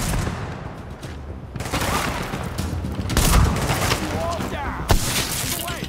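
Sustained gunfire in The Division, a dense rapid fusillade of shots rattling on for several seconds with a few louder cracks, heavy and close, amid busy combat noise.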